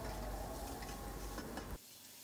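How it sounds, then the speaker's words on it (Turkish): Peppers are rinsed under plenty of running tap water, a close, steady rushing splash that stops abruptly near the end, leaving quiet room tone. "hepsini temizlediğim bol su yardımıyla yıkıyorum"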